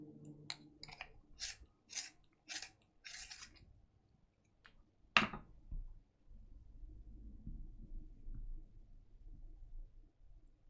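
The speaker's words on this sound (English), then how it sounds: "I'm just going to sharpen this pencil again." Several short bursts of scratchy scraping as a pencil is sharpened, then a sharp click, followed by faint low rustling and handling noise.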